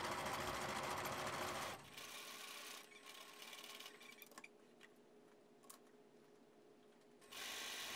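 A sewing machine stitches a convertible collar, whirring steadily up close, then slowing to a quieter mechanical patter with a few clicks before speeding up again.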